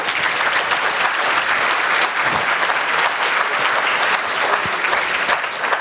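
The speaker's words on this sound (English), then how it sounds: "let's give the minister another applause for his excellent speech" Audience applause for a minister after his speech, a dense, steady wash of many hands clapping at close range, sustained evenly for several seconds without talk.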